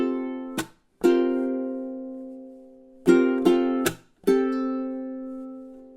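A ukulele plays the outro of a song, sharp strums ringing out into sustained chords with pauses between, clear and close, no voice.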